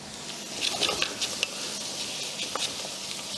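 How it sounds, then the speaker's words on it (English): Seafood sautés in a hot pan with a soft, steady sizzle and light crackling pops, fairly quiet and continuous. "Okay, just saute for a while, saute for a while."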